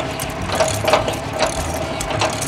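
A ratchet cranks the chains of a weight distribution hitch tight, giving a close series of quick mechanical clicks in short bursts over a low engine-like hum.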